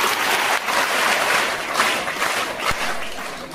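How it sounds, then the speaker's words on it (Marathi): Audience applauding loudly at a literacy day event, a thick sustained patter of many hands clapping for a few seconds, fairly close with slight swells in intensity. "तुम्ही सगळ्यांनी जोरात टाळ्या वाजवा"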